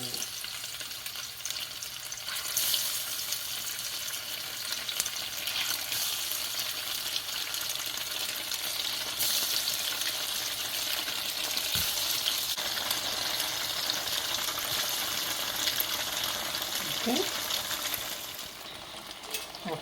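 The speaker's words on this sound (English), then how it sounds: "I'm gonna just drop some tofu in the pot and let them fry" Tofu frying in oil in a pot, a steady, dense sizzle running close and continuous throughout with a few faint clinks.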